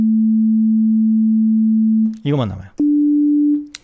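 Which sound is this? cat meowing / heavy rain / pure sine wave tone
pure sine wave tone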